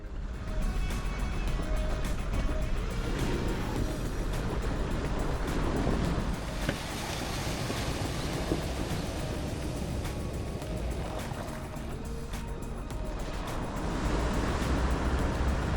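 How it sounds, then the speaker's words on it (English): A 4WD vehicle drives through a river crossing on a bush track, with a steady rush of water and engine noise mixed with wind buffeting the microphone. "We're going to go and do the river crossings because it's a lot of fun."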